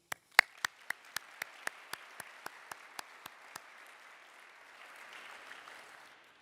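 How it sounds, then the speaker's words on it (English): Audience clapping for honorees at an honors and awards ceremony, opening with a few strong claps, then a steady run of sparse, evenly spaced claps that fades out, followed by a soft murmur of room noise. "let's have another round of applause for our honorees"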